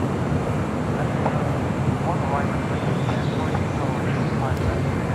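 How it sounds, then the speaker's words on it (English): A China Southern Cargo Boeing 777 freighter arriving at LAX from Anchorage gives a steady, loud, broadband jet roar that persists throughout, with some wind noise mixed in. "our next arrival, which is China Southern Cargo flight 2537 coming in from Anchorage, 777 freighter"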